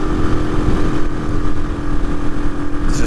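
A Hawk 250 motorcycle with a swapped Loncin RE250 engine labors up a hill in sixth gear, its engine droning loud and close with a steady, slightly pulsing low rumble that bogs rather than revs.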